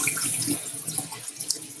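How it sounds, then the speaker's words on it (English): Carrots rinsed under a running kitchen tap, with steady close water hiss splashing into a sink for a couple of seconds and no talking. "Put a couple carrots in there. Rinse these off."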